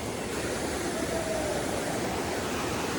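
Dudhsagar waterfall in a Goa forest gives a constant, even roar of rushing water, a broad steady wash of noise heard from some distance with no other sounds standing out.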